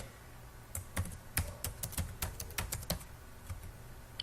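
A computer keyboard is typed on in short bursts, giving about a dozen crisp, quiet clicks at an uneven pace against a soft background hiss. Nobody speaks.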